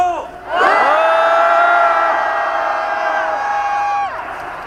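A large protest rally crowd at Gwanghwamun roars and cheers in a loud sustained shout that swells after a brief pause, holds for several seconds, then drops back.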